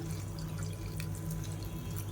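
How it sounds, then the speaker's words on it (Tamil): Boiling water pours steadily into a bowl with a constant splashing rush and a faint low hum underneath. "இப்போ இதில் வந்து நல்லா கொதிக்கிற தண்ணியை சேர்த்துக்கலாம்."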